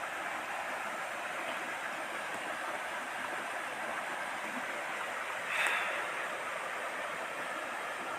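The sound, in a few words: river flowing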